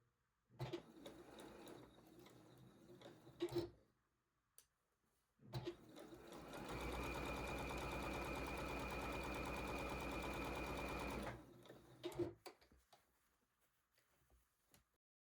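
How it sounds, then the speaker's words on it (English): A sewing machine chain-sews fabric pieces with a quarter-inch seam, running in a steady whirring burst of several seconds between shorter starts and stops, with handling clatter of fabric and pins around it, close and moderately loud. "I'm just chain sewing all of these."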